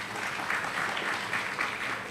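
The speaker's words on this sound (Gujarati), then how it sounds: "એટલે તાળી પાડી એ લોકોએ." Brief, moderately distant applause from an audience at an educational kit distribution event held at a Swaminarayan temple, a steady patter of clapping with no speech over it.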